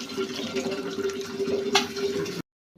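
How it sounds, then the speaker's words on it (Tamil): Water pouring steadily into a pan of sautéed coconut for fish curry, a continuous splashing stream with a brief clatter near the end before it stops abruptly. "தண்ணி ஊற்றிக்கணும்."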